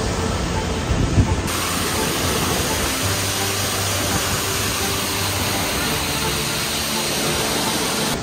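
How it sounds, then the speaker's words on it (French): Boka waterfall in Slovenia, the country's highest, roars as a loud, steady broadband rush of falling water that fills the whole scene without a break. "La plus haute cascade de Slovénie, Boka."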